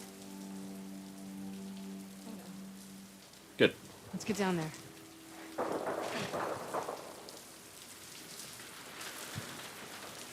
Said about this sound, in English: Bit of rain sound.